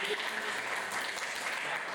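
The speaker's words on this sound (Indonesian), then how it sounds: "Kasih tepuk tangan." Classroom applause during an Islamic religious education lesson, a dense wash of clapping from a group of students that fills the whole two seconds at a steady, moderate level with faint voices mixed in.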